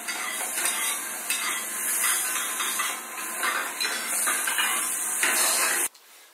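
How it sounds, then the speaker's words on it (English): A steady hiss like sizzling pans fills a scene from Black Mirror season 3 episode 3, with repeated scraping of plates and clinks of dishes, ending abruptly. "the loudest one, is the scraping of that plate"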